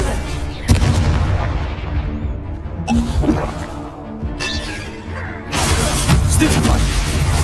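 A Confringo spell blast in the Hogwarts Legacy video game goes off as a loud booming explosion with a crashing burst, set amid dense, continuous combat noise and other spell impacts, with a voice shouting over the din.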